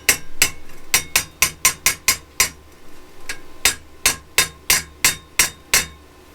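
A hammer knocking excess weld material off fresh gas-welded metal: about fifteen sharp, close metallic strikes at a steady beat, with a short pause partway through.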